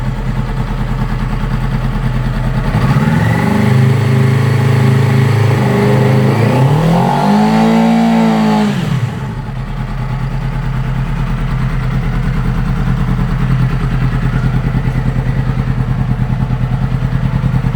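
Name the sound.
2009 Yamaha R6 motorcycle engine revving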